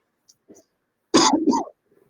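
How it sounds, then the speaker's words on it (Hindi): During a live online math class on definite integrals, one person gives a single short, harsh cough or throat-clear, preceded by a few faint clicks and soft noises in an otherwise quiet room. "कौन खांस रहा है?"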